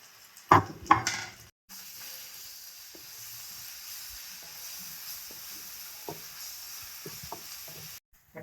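Onions fry with ginger-garlic paste, salt, turmeric, chili and cumin powder in a pan for a moong dal chicken bhuna, a steady close sizzle after a few sharp clinks and stirring scrapes, with no talking.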